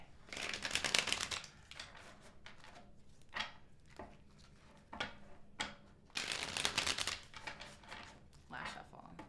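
Tarot cards are shuffled by hand in several quick, riffling bursts separated by short pauses, close up, with a person talking between the bursts.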